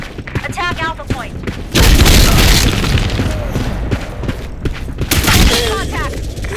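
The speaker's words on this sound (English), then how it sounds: "Throwing grenade! Throwing grenade!" A grenade blast in the military shooter game Black Squad lands as a loud, heavy boom with a rolling rumble, set amid gunfire and combat noise, with a second blast following shortly after.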